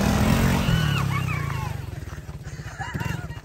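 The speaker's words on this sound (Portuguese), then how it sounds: "tá aprendendo a andar de moto" A small motorcycle ridden by a learner on a farm putters along with a rhythmic, pulsing engine note that dips slightly, then settles into steady chugging, with faint voices in the background.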